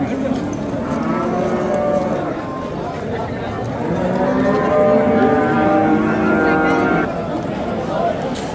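Cows low repeatedly at a Friday livestock market in Pastdarg'om, Samarkand, with long loud moos overlapping one another up close, a busy crowd murmuring underneath and people talking.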